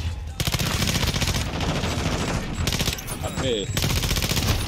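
Rapid automatic gunfire in a shooter video game, loud rattling bursts repeating almost continuously with brief pauses, while a player mutters over it.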